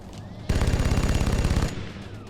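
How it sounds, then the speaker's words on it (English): Rapid-fire gunshots in the XCOM: Enemy Within video game, a single burst of fast repeating shots lasting about a second, loud and close, then fading into a short tail. "Rapid fire!"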